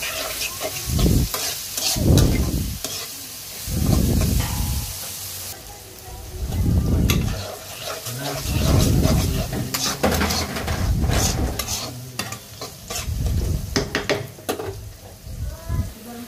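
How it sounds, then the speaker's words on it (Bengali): Onions frying in oil for chicken biryani, with a steady sizzle and repeated scraping strokes of a spoon stirring the pan, close and fairly loud, and no talking. "পেঁয়াজটা ভালো করে ভেজে নিব।"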